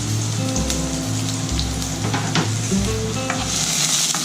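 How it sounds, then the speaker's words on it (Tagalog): Garlic and onion sautéing in a pan for shrimp pinakbet, a steady close sizzle running throughout with faint stirring scrapes and low hum beneath, no voices. "So igigisa natin yan,"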